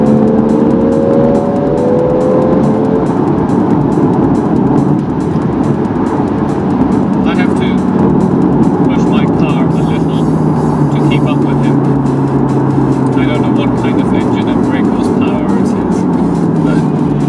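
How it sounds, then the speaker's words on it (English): Fast sports cars, including Lamborghinis, a Mercedes and a BMW, roar past one after another on a road, engines revving loud and close with rising and falling pitch, while people talk over them. "Fast car."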